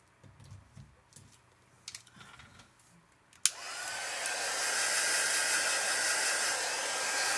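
A heat gun switches on with a sudden click and then blows a steady, loud hiss of hot air for drying paint, following a few seconds of faint tapping and handling noises at a craft table.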